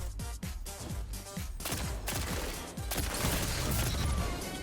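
A new raid hand cannon fired in a first-person shooter video game, several loud close shots in quick succession with echoing tails, the firing growing denser toward the end.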